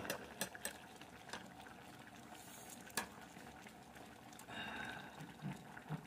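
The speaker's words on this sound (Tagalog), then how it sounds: "Kumukulo na." Faint bubbling and simmering of water coming to a boil in a covered pot while cooking sinanglay na tulingan, with soft crackles and occasional clinks, no talking.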